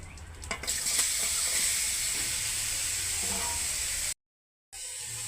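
Green chillies, five-spice and vegetables hit hot oil, giving a bright steady hiss that holds for about four seconds, drops briefly to silence, then resumes.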